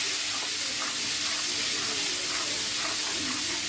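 Cumin seeds frying in hot oil, a steady bright sizzle and hiss with soft crackles running unbroken throughout, close and even.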